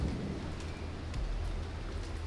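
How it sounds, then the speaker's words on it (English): Rain hisses steadily over a yacht, the Bayesian, as a storm sets in, a dense continuous patter with low rumbling wind-like noise underneath. "to protect Bayesian's interior from the rain that had started"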